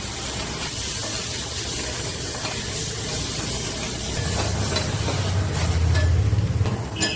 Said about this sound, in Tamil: இப்போ இஞ்சி பூண்டு பேஸ்ட்டு வதக்கிக்கிறேன்